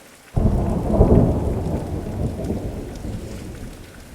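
Steady rain falls on a surface while a deep roll of thunder breaks in suddenly, swells, then rumbles on and slowly fades beneath the continuing downpour.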